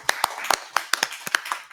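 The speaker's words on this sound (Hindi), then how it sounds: "इनके लिए भी ताली बजाइए भाई।" Applause at a women's self-help group outreach meeting in Saharanpur district, a short burst of scattered hand claps with sharp, uneven strikes from a modest crowd and no talk over it.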